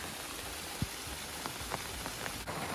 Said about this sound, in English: These tiny waterfalls, with it raining, is running really good.